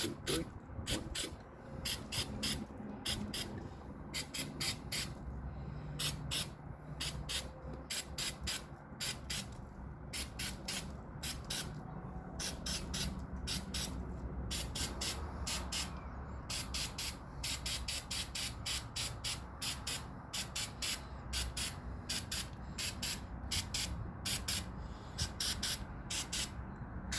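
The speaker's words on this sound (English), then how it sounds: "We're just gonna spray it one time." Flex Seal aerosol can sprays onto emergency strobe lights in many short, close hissing bursts, fired in quick counted groups with brief gaps, steady throughout.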